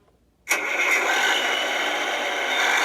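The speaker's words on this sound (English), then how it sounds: "Start engine mode." A Hess 2023 police truck toy kicks in with an abrupt electronic engine-start sound, then holds a loud, steady buzzing engine drone with a slight rattle.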